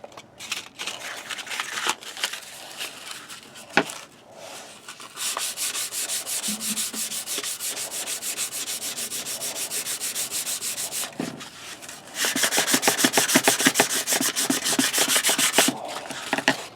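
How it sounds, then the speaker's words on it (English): Knife blade rubbed with 400 grit sandpaper in steady, rapid back-and-forth strokes, close and crisp, with brief pauses between bursts of scraping. "I'm now going to move on to the 400 grit sandpaper and just do the same process."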